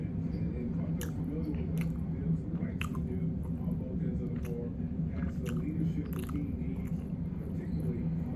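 Crispy fried chicken livers being chewed up close, a steady wet crunching and mashing that runs throughout with small clicks, low murmuring present beneath it.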